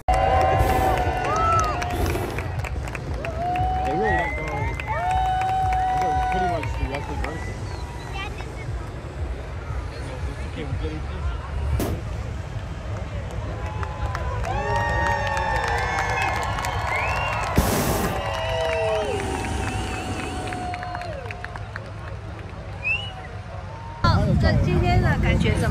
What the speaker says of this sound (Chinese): 每一次升空都迎来热烈的掌声和欢呼声